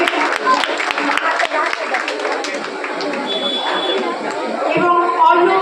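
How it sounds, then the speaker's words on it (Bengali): An audience at an award ceremony claps for a student's exam result, sharp scattered claps up front giving way to a murmuring crowd with voices talking over it. "জোরে হাততালি ওর জন্য"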